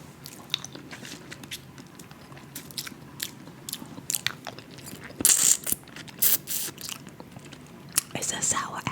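Sour apple hard candy being bitten and crunched up close, with sharp irregular cracks and crunchy bursts, louder around the middle and end, over a quiet background with soft mouth sounds.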